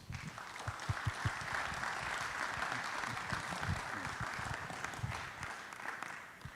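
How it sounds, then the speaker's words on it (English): Audience applause at a city council meeting honoring a police chief, steady distant clapping filling the room for several seconds with no talk over it. "please give him a round of applause."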